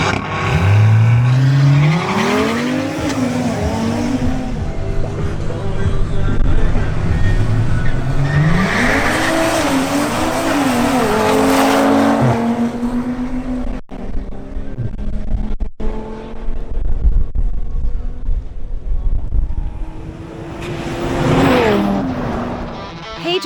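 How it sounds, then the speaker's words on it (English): Drag race between an Audi RS3 and a BMW M240i xDrive: engines rev and climb through gear changes with rising and falling pitch, loud and close, with tire noise and a crowd-like background. "Holmes Angulo in his BMW M240i xDrive faces off against Pedro Mogollon in his Audi RS3."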